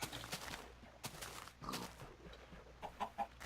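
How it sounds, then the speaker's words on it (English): Chickens clucking in the Minecraft video game, a series of short game-style clucks and squawks scattered across a few seconds at moderate loudness, with no speech. "Lots of chickens as well."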